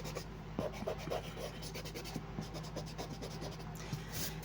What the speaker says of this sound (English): erase the excess lines